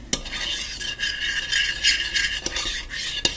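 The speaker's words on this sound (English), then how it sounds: "stir it around a little bit, just to get the ingredients kind of mixed in" A spoon scrapes and clinks through a sweet potato and cranberry mixture for a Thanksgiving side dish, with a steady scraping stir broken by a few sharp knocks against the pot, close and moderately loud, with no talking.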